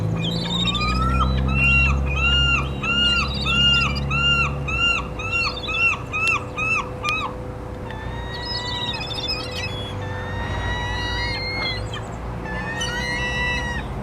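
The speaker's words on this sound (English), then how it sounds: "Aggressive seagull right there." Seagulls and crows squabble over thrown crackers outdoors, with repeated harsh rising calls in rapid series, loud and close, followed by scattered further cries over a steady low background rumble.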